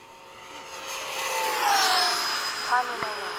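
Freewing 90mm F-22 RC jet passing at half throttle, its ducted-fan whine rising and sweeping in pitch as it flies by at moderate distance, with voices talking faintly underneath.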